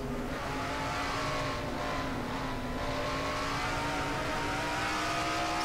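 Race car engines howl at very high RPM in a NASCAR-style stock car racing video game, a steady, loud, continuous whine with shifting pitch and no voices over it.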